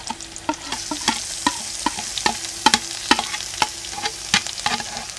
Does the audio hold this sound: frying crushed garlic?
yes